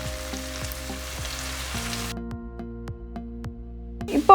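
Onions fry in a pan with salt and curry leaves, a steady close sizzle that drops quieter halfway, with repeated stirring scrapes and a bump at the end, no talking.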